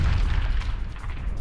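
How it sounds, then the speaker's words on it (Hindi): Explosion from an attack on a Ukrainian military post in Donetsk: a heavy, rumbling boom with sustained low-end roar that stays loud for the whole moment, with no voices over it. "इस हमले के बाद देखिए कैसे जोरदार धमाका हुआ है, जोरदार विस्फोट हुआ है"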